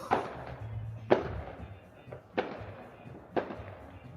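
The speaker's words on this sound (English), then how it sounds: "I couldn't escape the fireworks. They were just going off." Fireworks going off around a house on New Year's, heard from a balcony as four sharp cracks and bangs at irregular intervals over a low background rumble.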